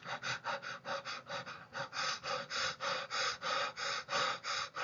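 A person imitates deep, rapid Kussmaul breathing with a steady, even cycle of loud, close, hissing breaths, about three per second, with no talking.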